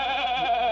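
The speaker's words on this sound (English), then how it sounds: "here's Arthur my goat" Arthur, a pet goat, lets out a single close, loud, sustained bleat with a wavering, nasal quality.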